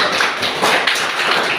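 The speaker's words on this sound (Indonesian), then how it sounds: "tepuk tangan lagi" Brief applause from a classroom group during a coaching session, dense overlapping claps at an even level with no talking.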